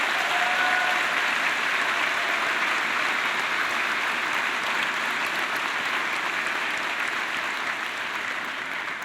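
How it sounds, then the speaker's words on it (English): A large graduation ceremony audience at a high school gives sustained, loud applause for the staff, thick even clapping that continues for several seconds and eases slightly toward the end. "Please give them a big hand of applause."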